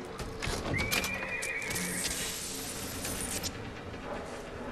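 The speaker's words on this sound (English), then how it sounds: "Nice electronic horse." A mechanical horse in the video game BioShock Infinite neighs once, a rising whinny over busy game ambience with faint clip-clop and clattering, no talking.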